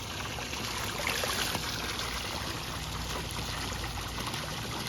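Water pouring steadily from a Flowclear pool waterfall, a continuous broadband rush and splash, fairly close and even throughout with no talking.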